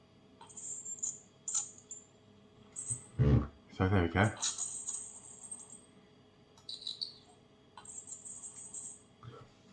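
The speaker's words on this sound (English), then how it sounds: "Listen for this dentist type sound." Zoccee electric toothpick working on teeth gives off a thin, high, dentist-drill-like whine in short recurring bursts, faint and close, with a voice talking over parts of it.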